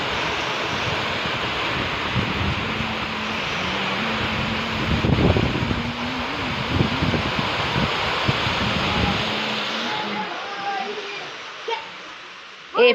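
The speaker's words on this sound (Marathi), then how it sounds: "पाऊस पडायला लागलाय मस्त" Steady rain pours down over a village, a continuous close hiss with faint voices and brief knocks underneath, easing slightly near the end.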